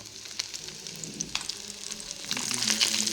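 Sheep head and trotter sambar frying in a pan, a continuous crackling sizzle with scattered sharp pops that thickens and grows louder toward the end, heard alone without speech.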